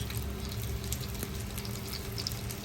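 Slices of banana fry in moderately hot oil, giving off a faint, steady sizzle with fine crackles throughout.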